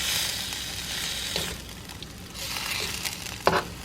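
Honey sriracha shrimp sizzle in a wok as they are stirred around, a soft continuous hiss with a few scraping clicks and a sharper knock near the end, no talking.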